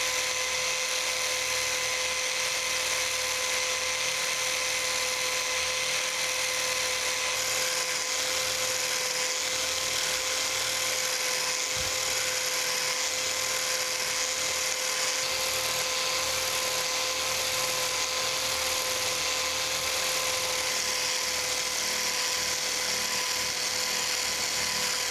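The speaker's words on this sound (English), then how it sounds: "I'm gonna get my biax out. We're gonna start by just doing a blind crosshatch on it." A Biax power scraper doing a blind crosshatch scrape on a planer saddle runs steadily and loudly throughout, a continuous high-pitched motor whine with a rapid buzzing stroke and no pauses.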